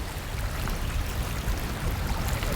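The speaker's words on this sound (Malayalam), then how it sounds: "വളരെ ശക്തമായിട്ടാണ് വെള്ളം അങ്ങനെ കുത്തി ഒഴുകിക്കൊണ്ടിരിക്കുന്നത്" Seawater rushes strongly into a small river like a backwater, a steady, loud, continuous broadband wash of flowing water with no pauses and no voices.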